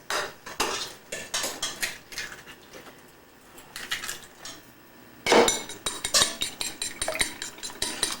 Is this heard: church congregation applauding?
no